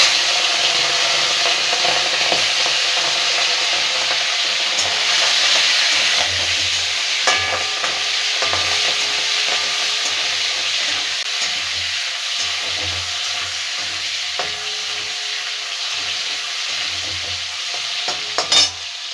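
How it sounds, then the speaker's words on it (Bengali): Prawns fry in hot white oil, a loud continuous sizzle with occasional scraping stirs and soft knocks from the pan. "এবার এটাকে হালকা করে ভেজে নেব সাদা তেলে।"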